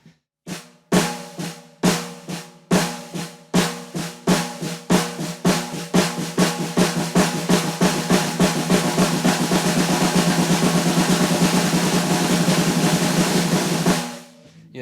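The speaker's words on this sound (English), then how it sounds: "You just accent that second stroke at a slow tempo, and you kind of speed it up." Drum double strokes with the second stroke of each pair accented, beginning as slow, evenly spaced hits and gradually accelerating into a dense, continuous roll, played close and alone.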